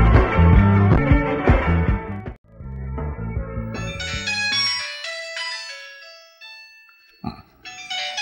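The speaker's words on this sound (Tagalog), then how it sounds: "Ada umawag iti cellphone ti anak tay Jaya Kaloy" A cellphone rings with an incoming call, playing a loud musical ringtone melody of bright tones that pauses briefly and starts again, with no talking over it.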